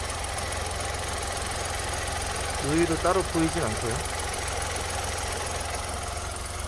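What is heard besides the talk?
Kia Morning engine idling with vibration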